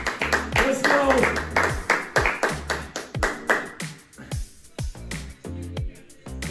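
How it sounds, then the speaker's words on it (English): People clapping while holding a plank during a virtual basketball skills camp workout, a run of sharp, near claps in a loose rhythm with a coach's voice talking over them. "Who can clap it up in that plank?"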